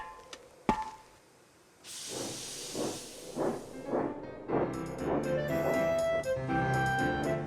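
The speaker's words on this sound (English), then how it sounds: "Thomas puffed into the wharf." A cartoon steam engine puffs into a wharf: a steady hiss of steam with rhythmic chuffing beats that grow fuller and are joined by tonal, music-like layers, moderately loud and close.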